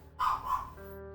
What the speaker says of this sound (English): Sorry about my dog barking in the background